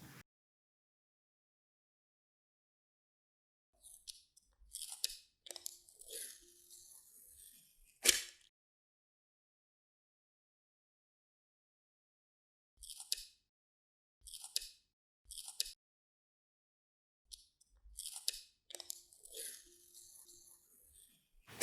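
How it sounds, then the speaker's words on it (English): A protective plastic sheet is peeled from both sides of a linocut inking plate, giving several close, crinkly tearing bursts separated by quiet pauses. "Peel off both sides of the protective sheet and place the plate on the slip mat."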